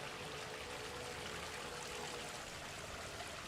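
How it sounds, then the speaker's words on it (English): Water flows steadily down a pond's rockery stream cascade, making a constant, fairly quiet rushing and trickling wash with no voices. "When you look at the path of the water coming down the cascade"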